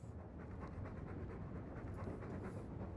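Rhythmic dog panting in the video game Dragon Age II, steady and close, a continuous breathy pulse running the whole time with no talk over it.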